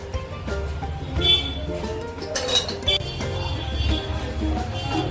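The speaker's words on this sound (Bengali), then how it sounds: "আমি এটা একটা বাটিতে তুলে রাখছি।" Fried vegetables for a vegetable dum biryani being lifted out of the cooking oil into a bowl, with repeated metallic clinks and scrapes of a utensil against the pan and dish over a low steady background hum.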